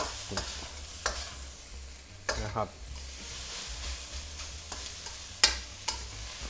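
Fried rice with naem, fermented pork, sizzles in a hot pan while a spatula scrapes and tosses it in irregular strokes; a voice briefly speaks.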